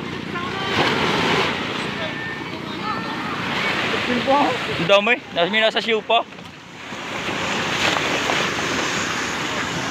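Ocean waves surge and wash ashore in a loud, continuous roar that dips briefly midway while people talk nearby, then rises again.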